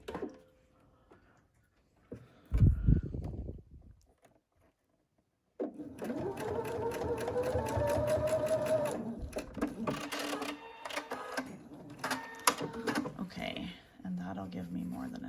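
A home sewing machine stitches through a single layer of quilt batting on a small seam, running steadily and fairly loud for about nine seconds after a short burst and pause, with a quieter stretch of motor and needle sound at the end.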